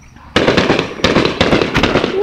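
Fireworks exploding at an outdoor display, a rapid series of loud sharp bursts and crackles in quick succession, close and dominant, with people's voices mixed in.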